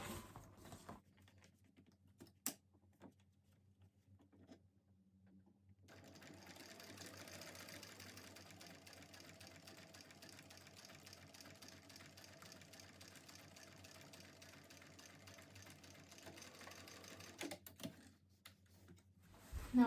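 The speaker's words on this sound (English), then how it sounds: "We need to take this over to the machine and sew across the line that we've drawn." A sewing machine stitches across a drawn line on a tote bag box corner, a fast steady whir running for about twelve seconds after a quiet pause with a few clicks, then stopping, with handling noises at the end.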